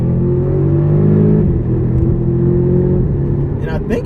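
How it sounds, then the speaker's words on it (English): A 2012 Audi TTS in sport mode holds a loud, close engine drone under revs, easing off toward the end with faint crackles; someone talks over it throughout. "I think I'm hearing actually a little bit of pops when you let off"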